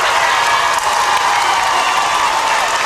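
Loud, dense crowd cheering and applauding at a high school basketball game during a timeout late in a Coffee County Red Raiders game, a steady roar of clapping and shouting with no break.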